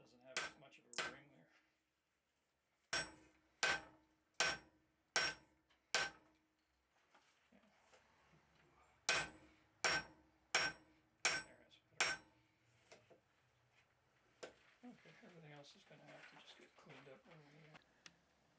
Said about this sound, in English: You're basically just flattening the one end down to a cross peen shape.